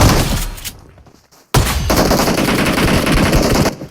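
Shotgun fire in the mobile battle royale game BGMI comes as a loud, close burst of rapid gunshots, then a brief near-silent gap, then another sustained volley that cuts off abruptly.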